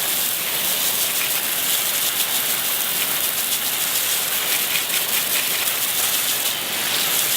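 A water spray hisses continuously against an alloy car wheel during a rinse, a loud, even rushing spatter with no pauses and no voices.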